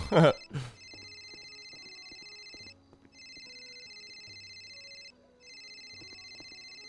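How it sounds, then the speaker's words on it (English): A video game phone rings for an incoming call, a steady electronic tone pulsing in repeated bursts after a brief loud sound at the start, with soft ticking in the background. "I got to answer Tony's phone call"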